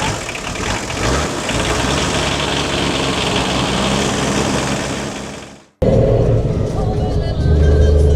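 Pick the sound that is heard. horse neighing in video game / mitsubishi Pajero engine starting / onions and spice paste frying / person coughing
mitsubishi Pajero engine starting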